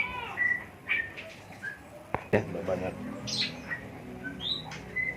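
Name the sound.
white-rumped shama (murai batu) calling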